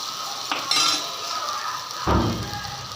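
Tomatoes sautéing in oil in a pan for rabbit curry, with a soft steady sizzle under a few clinks and scrapes of a utensil against the pan.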